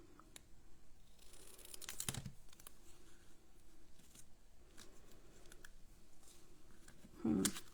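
Paper trimmed for a Stampin' Up heart-shaped card: faint, close cutting and snipping clicks come in scattered bursts, with a louder crisp cut near the end, in an otherwise quiet room.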